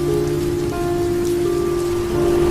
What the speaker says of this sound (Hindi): ट्रक थोड़ा और आगे बढ़ा ही था कि बारिश तेज हो गई।